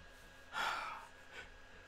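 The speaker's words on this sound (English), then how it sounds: "Sorry about the yawn." A single breathy yawn from someone commentating a Football Manager 2018 career game, starting about halfway through and fading over roughly half a second, with a softer exhale shortly after.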